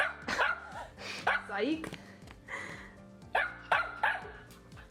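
A dog barks and yips in several sharp, close bursts spread across the moment, mixed with someone talking and laughing nearby.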